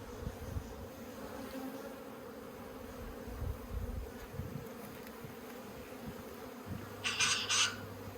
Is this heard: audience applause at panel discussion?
no